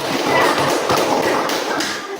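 Scattered classroom applause from students for a presenting group, a dense burst of overlapping hand claps and taps lasting about two seconds, moderately close and fairly loud, with some light rustling underneath.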